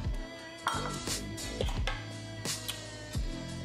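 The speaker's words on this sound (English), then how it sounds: "I'm gonna just put some in my bowl." Fruit salad of berries and grapes is spooned into a bowl, with a series of close, bright clinks of a utensil against the dish and soft wet shuffles in between, no talking.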